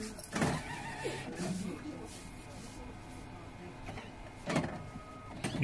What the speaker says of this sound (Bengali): 600 dpi তে এখন প্রিন্ট করছি, দেখতে পাবেন।